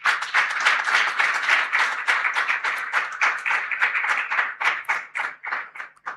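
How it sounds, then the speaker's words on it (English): A small audience at an annual general meeting gives a round of applause to welcome the sponsor, the MD and CEO. The clapping is moderately close and somewhat uneven, with individual claps audible through the ten-odd pulses per second. "with a round of applause, let's welcome the sponsor"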